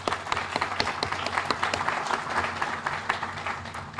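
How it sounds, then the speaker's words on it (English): An audience at a ribbon cutting opening a transition academy gives lively, sustained applause, with many sharp individual claps standing out in a steady crowd clatter, close and consistent. "We got to give that a round of applause."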